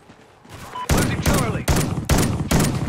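Gunfire from a gun in Call of Duty: Ghosts during a Domination match on Stonehaven: loud, close bursts of rapid shots, about four sustained volleys in quick succession after a quieter opening.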